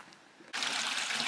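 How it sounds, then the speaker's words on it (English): A small waterfall on a trail near Squires Lake trickles; the water rushes up suddenly and loudly about halfway through, then runs as a steady close splashing flow with no voices. "Trickle, trickle, trickle. Little waterfall for you."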